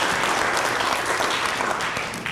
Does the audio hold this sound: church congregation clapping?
yes